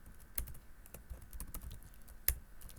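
Code being typed on a computer keyboard produces close, irregular clicks and taps, with a few sharper keystrokes standing out. The clicks come in short bursts separated by brief pauses.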